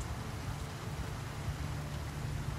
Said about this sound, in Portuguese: E a chuva torando, né?